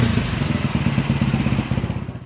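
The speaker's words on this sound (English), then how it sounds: "The sound of a bike engine approaching, that must mean Lyndon's visitor has arrived." A motorcycle engine approaches, its pulsing, throbbing exhaust note chugging rhythmically and fairly loud, then fading slightly toward the end.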